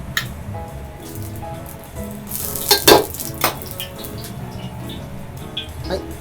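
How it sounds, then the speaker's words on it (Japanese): Oil heating in a wok for a spicy hotpot-style beef noodle soup, a steady crackling sizzle with a louder burst of spattering in the middle, close and alone. "鍋にですね、油適量を加えます。"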